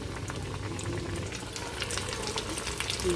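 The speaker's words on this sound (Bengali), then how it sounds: "বাকিগুলিকে ভেজে তুলে নিই" Lotia fish fry in hot oil, giving a continuous close bubbling sizzle with faint crackles and no voices.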